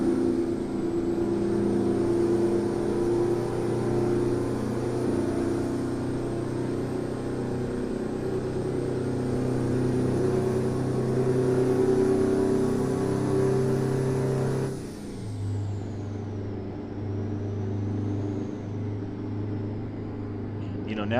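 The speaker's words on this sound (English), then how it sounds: "Putting this old truck to work." A Freightliner FLD truck engine in American Truck Simulator drones steadily, loud and close, with an even hum under a high whine. Near the fifteen-second mark the pitch drops as the truck shifts or eases off, and someone talks over it.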